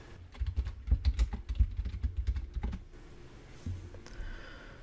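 Keys clatter in a quick, uneven burst on a computer keyboard as a shape name is typed, loud and close, then a brief pause with a few scattered clicks; no one talks.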